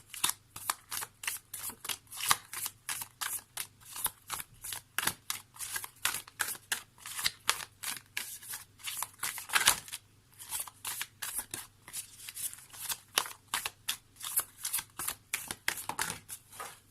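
Oracle cards of magic trees being shuffled by hand, a long run of quick crisp riffling flicks close up in a quiet room, alone with no talking.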